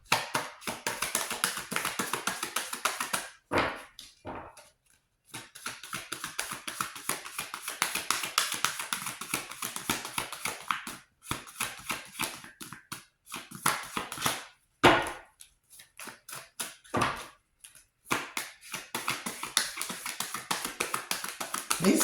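Large tarot cards being shuffled by hand, making quick repeated crisp taps and flutters in bursts separated by short pauses, close up with no talking.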